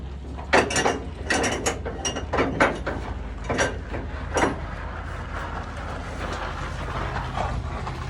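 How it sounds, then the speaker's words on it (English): A flatbed cargo strap is hand-tightened on its spool, giving a run of quick rattling ratchet clicks in uneven bursts over a low rumble, then settling into steady background noise. "Take it and just hand tighten it."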